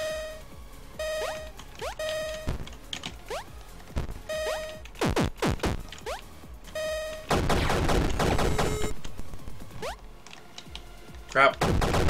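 Repeated revolver shots in the retro arcade game Super Crate Box ring out as sharp, loud cracks in irregular bursts over bouncy chiptune-style game sounds, with a dense rapid flurry of firing partway through.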